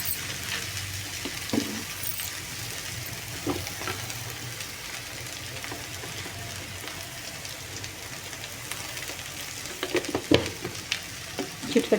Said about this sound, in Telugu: ఇప్పుడు బెండకాయ ముక్కలు బాగా ఫ్రై చేసుకోవాలండి.